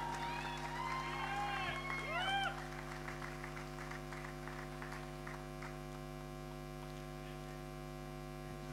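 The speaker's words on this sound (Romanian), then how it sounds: "Aplauze, aplauze și multe felicitări!" Applause at a university graduation ceremony, brief and fairly faint crowd clapping with some cheering that fades after a couple of seconds, leaving a strong steady electrical hum.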